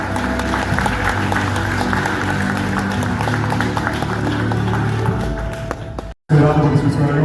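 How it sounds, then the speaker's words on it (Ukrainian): Dense clapping from a large crowd fills the room at a village local government awards ceremony, steady and loud, then cuts off briefly before the noise resumes. "Знову ж таки, бажаю вас оплесків"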